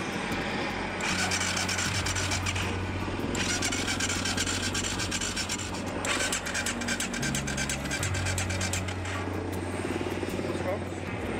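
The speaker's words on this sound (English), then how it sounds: "Now it has started, but it won't start on full gas." An engine that has just been brought to life on a Dakar rally race vehicle runs loud and steady throughout, its low drone shifting pitch as the throttle is opened and eased back, with scraping noise and broadband roar on top.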